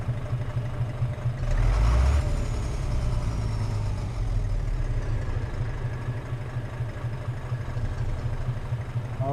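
Truck engine idling in Euro Truck Simulator 2, a steady low rumble that holds throughout, with a brief louder swell early on before settling back to an even drone.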